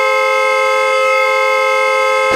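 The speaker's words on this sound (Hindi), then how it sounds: "अरे कौन है ये नॉन स्टॉप हॉर्न बजा रहा है?" A vehicle horn blares continuously without a break, loud and steady, cutting off abruptly at the end.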